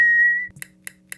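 A single sustained whistle imitates a creature's call meaning fire, held steady then stopping, followed by three evenly spaced sharp clicks over a quiet low hum.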